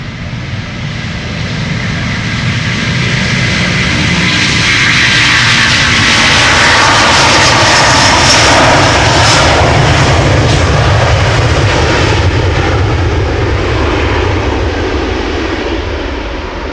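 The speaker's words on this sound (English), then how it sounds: "Delta Airlines off to Atlanta, Georgia, A330-300." Delta Airlines Airbus A330-300 departing Amsterdam Schiphol for Atlanta, a loud close jet engine roar that swells to a peak midway and stays powerful, with crackling broadband thrust rumble.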